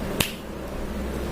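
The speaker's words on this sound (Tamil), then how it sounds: "சொடக்கு சத்தம் எங்கேருந்து வருது கண்டுபிடிங்க." A single sharp finger snap, made by pressing two fingers together and flicking, cracks once close by against a low, steady background hiss.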